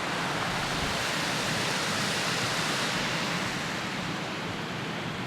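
Water rushes steadily at the old mill site in Gay City State Park, a loud, unbroken roar of falling water close at hand with no pauses.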